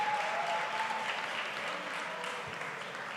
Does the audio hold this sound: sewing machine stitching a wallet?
no